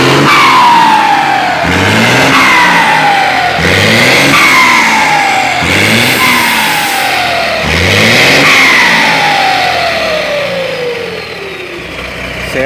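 A Mercedes-Benz MB1721 bus engine fitted with a GAR AR84 turbo and a fully straight exhaust revs hard five times in a row, each loud rise ending in a falling turbo whistle, close and continuous with no talking.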